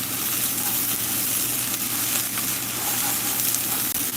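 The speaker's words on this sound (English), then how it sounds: "So we're starting to get some browning action on these onions." Onions browning for chili in a hot pan, a steady dense sizzle and crackle of frying that runs continuously and fairly loud with no voices over it.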